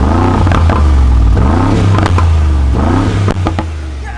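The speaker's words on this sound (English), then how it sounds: "You can actually get that Brabus exhaust system note" A Brabus super truck in Sports Plus mode, exhaust valves open, gives a loud, deep, close rumble that swells and falls through several revs, with faint crackles.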